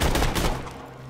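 A short burst of rapid gunfire from a Borderlands 2 weapon, several quick loud shots in succession, then a brief ringing tail as it fades.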